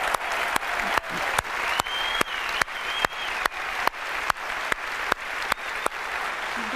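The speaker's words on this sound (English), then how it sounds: "Let's give them a round of applause." An audience claps through a big keynote hall at Apple's WWDC 2008 event. The applause is sustained, with sharp, fairly regular claps and a brief whistle rising above the crowd.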